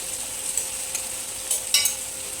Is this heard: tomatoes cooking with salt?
yes